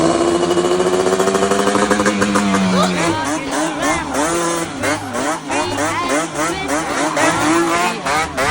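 A Yamaha Banshee ATV engine revs hard and rises and falls in pitch while spinning donuts on soaked ground, loud and close, with a sustained engine roar and repeated revving sweeps throughout.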